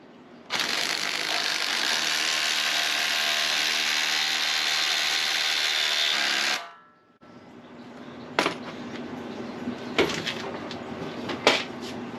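A power tool runs the nut onto a Fiat 124 rear axle shaft during a rebuild, a loud continuous mechanical whir for about six seconds that stops abruptly, followed by quieter clanks and knocks of tools on metal.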